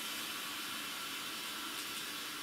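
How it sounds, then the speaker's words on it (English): A Russell Hobbs 20630 steam iron runs its self-cleaning cycle, giving a steady, faint hiss of steam through its jets with no voices. "Basically what that's doing is that's actually cleaning the jets of the iron."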